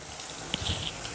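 Coated chicken pieces fry in hot oil with a steady crackling sizzle, close up, ending in a sharper spatter.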